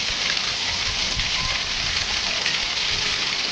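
Chilli chicken pieces deep-frying in oil until reddish and crisp, giving a dense, steady hiss and crackle like rain, close and even throughout, with no talk.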